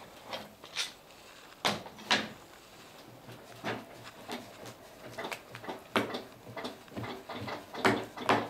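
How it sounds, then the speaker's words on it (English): Steel F clamps being loosened and released from a laminated timber boat stem, giving a scattered series of close clacks and knocks of metal on wood at uneven intervals, with no talking. "We undo the clamps."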